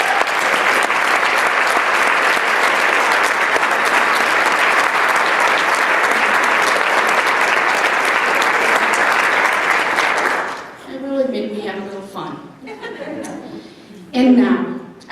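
Luncheon audience gives United Way staff a long, loud round of applause, a dense sustained clapping that runs for about ten seconds before fading, followed by a voice speaking.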